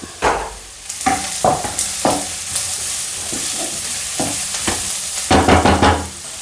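Masala for egg curry sautéing in a pan, a steady sizzle broken by repeated scraping and clattering strokes of a spoon stirring the mixture, close and loud, with no talking.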